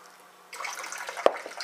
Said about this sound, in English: I do it straight from the tap, just a little bit of water at a time.